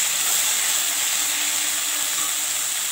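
Vegetables for shukto frying in a pan, a steady loud sizzle and hiss of hot oil that continues evenly throughout without pauses.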